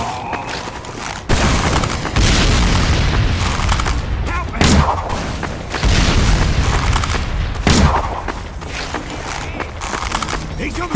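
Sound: explosions from bombs in video game Team Fortress 2

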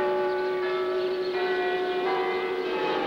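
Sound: carillon of the old Garrison Church in Potsdam

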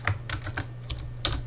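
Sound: typing on a computer keyboard

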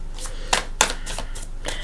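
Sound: shuffling tarot cards

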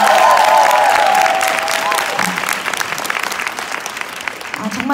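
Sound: audience applause at a seminar

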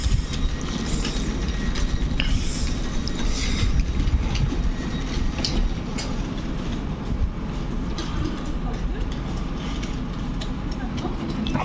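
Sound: trains at Łowicz Główny station platform

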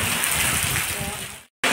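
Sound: heavy rain falling

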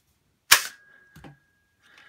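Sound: Poundland nerf gun firing a dart that ricochets off a wall

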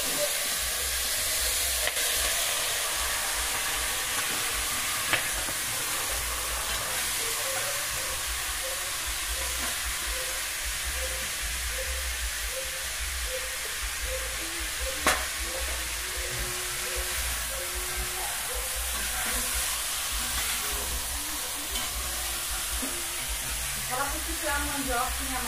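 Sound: free-range chicken frying in an iron pot on a wood stove

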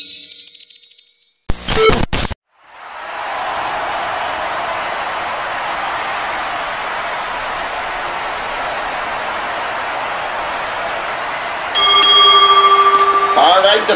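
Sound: wrestling match bell ringing

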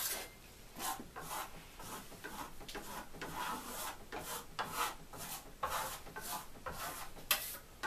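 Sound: rubbing metallic Venetian plaster on a wall

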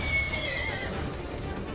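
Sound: horse neighing in the video game Assassin's Creed Brotherhood

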